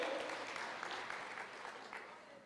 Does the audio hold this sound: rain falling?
no